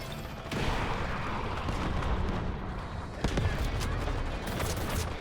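Rapid bursts of M4A1 rifle gunfire in the video game Delta Force roar continuously with loud blasts, a sharp louder volley midway, dense and close.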